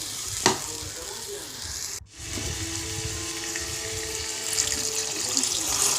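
Small chopped vegetables sizzle and crackle as they sauté in a pan for vegetable kuruma. A steady frying hiss runs throughout, with a brief stir or clatter partway through.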